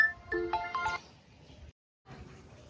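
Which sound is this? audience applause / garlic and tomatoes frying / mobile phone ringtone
mobile phone ringtone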